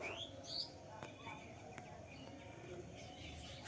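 Pigeons in a home loft give a few faint coos and short chirps, quiet and close, over a dull low rumble. A voice is present at times.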